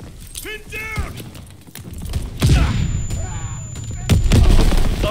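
Grenade explosions in Call of Duty WWII, two heavy booms amid gunfire and battle noise, loud and close, with a voice talking over the start.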